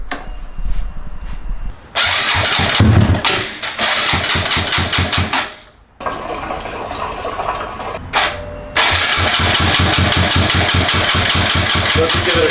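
A Honda Grom Super 150 motorcycle engine cranks and fires up several times in short bursts, stopping between tries as the kill switch is cycled, then settles into a loud, steady idle.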